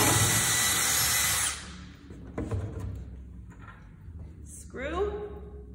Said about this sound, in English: I'm gonna do the same thing with my drill and driver